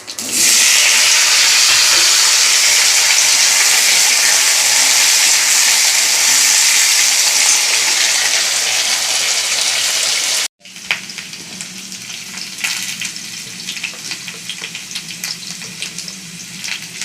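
Potatoes and cumin seeds fry in hot mustard oil, a loud, steady sizzle close by that drops abruptly and continues as a softer crackling fry.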